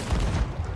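A ship's cannon fires in a naval video game, heard as a short, dense, booming blast lasting under a second.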